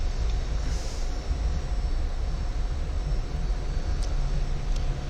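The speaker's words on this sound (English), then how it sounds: "let's take this aircraft down the runway." A Pakistan Air Force F-86F Sabre jet taxiing on a runway gives off a loud, continuous engine roar with a steady high whine, close by and unbroken.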